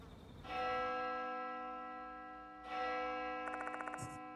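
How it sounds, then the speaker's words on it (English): Resonant bell in a horror adventure game, struck twice with long ringing decay, the second strike followed by a quick series of rapid metallic ticks before it fades, fairly faint overall. "That bell again."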